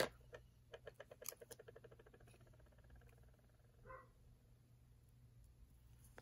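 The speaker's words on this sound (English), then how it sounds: "Oh, there's the dog barking." Faint, distant dog barking in a quick run of short barks that fades into a quiet, humming background.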